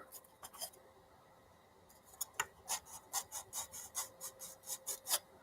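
CA-backed small parts being sanded smooth on a workbench: a couple of short rasps, a pause, then a quick run of rhythmic back-and-forth scratchy strokes, close and clear, with no talking.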